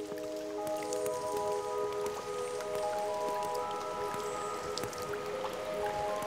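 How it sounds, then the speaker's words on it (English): Meltwater drips steadily from a glacial dome inside an ice cave beneath a large glacier in the Alps, falling in scattered bright drops over a continuous rushing wash of the icy stream below. "Drop by drop, the glacial dome releases its waters into the icy stream below"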